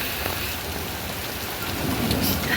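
Heavy rain pours in Alexandria during a thunderstorm, a dense, steady roar of rainfall with low rumbling underneath that swells slightly toward the end, with no voices.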